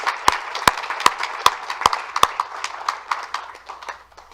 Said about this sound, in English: Please give a round of applause to Ann Woodson Hicks.